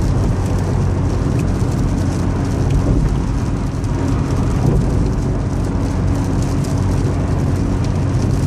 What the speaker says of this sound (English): It's been raining now for almost 2 days straight.